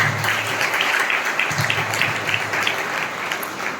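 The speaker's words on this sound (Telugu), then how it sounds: "అందరం ఒకసారి గట్టిగా చప్పట్లు కొట్టి నూతన సంవత్సరం అడిగి పెడుతూ" A church congregation at Kattubadipalem claps together to welcome the New Year 2024, a dense, steady burst of applause lasting several seconds with no speech over it.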